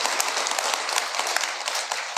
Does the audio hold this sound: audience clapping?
yes